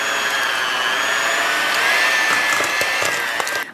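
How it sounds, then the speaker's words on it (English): A handheld electric mixer beats cream cheese in a bowl, a steady, loud motor whine with a high pitch that drifts slightly and continues without a break. "I'm going to mix that with my handheld mixer until creamy"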